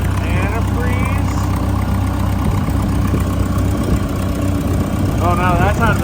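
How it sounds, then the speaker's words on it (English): A Massey Ferguson 180LP tractor engine idles steadily with a low, even thrum close by, while people talk over it throughout. "We're gonna let it idle here for a minute."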